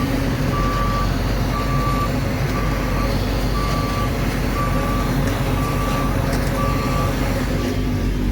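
A truck pulling a silage wagon backs up, its reversing alarm sounding a steady series of evenly spaced beeps over a loud, continuous engine rumble close by.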